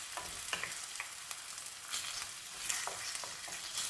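Meat sizzles with onions in a hot pan for a Moroccan lemon tagine, a close, steady crackling fry with small sharp pops and soft stirring scrapes throughout.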